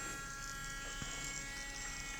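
A cheap Temu electric engraving pen buzzes at close range, a steady, even motor whine with a thin high-pitched tone and one faint tap midway, no talking.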